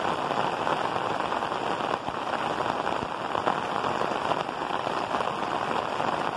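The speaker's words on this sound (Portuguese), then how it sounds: "Chuva caindo." Steady rain falling and pattering on surfaces in São José do Belmonte, Brazil, a continuous dense hiss of drops, close and fairly loud, with no voices.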